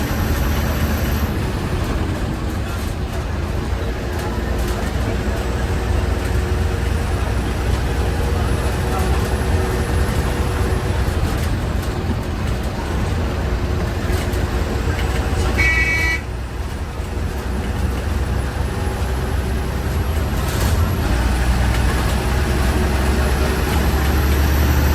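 An MSRTC BS6 bus pulls out of Ballarshah bus stand, its engine rumbling steadily amid busy station noise, with horn toots and an air-brake hiss partway through.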